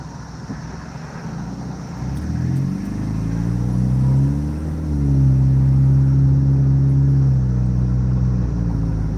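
A car drives along Milwaukee Avenue near Wheeling in the USA, heard from inside as a loud, steady engine rumble that swells and rises in pitch as it accelerates, with no talking.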